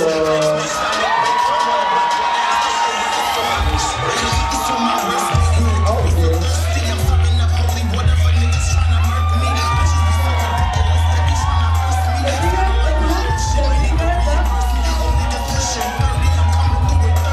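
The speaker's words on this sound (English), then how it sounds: "give him a round of applause" A crowd at a fashion ballroom kiki event cheers, whoops and shouts continuously over a pounding bass beat, loud and sustained throughout.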